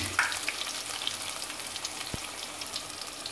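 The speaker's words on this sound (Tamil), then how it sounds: "வெங்காயம் நல்லா வதங்கட்டும்." Small shallots sauté in a pan for a Sunday lunch, giving a steady faint sizzle and crackle with a single soft knock partway through, and no one speaking.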